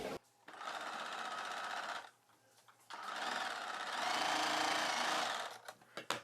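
Sewing machine running steady stitching bursts while attaching a hook belt strip to a blouse, the motor whirring loud and close in two long runs separated by a short pause.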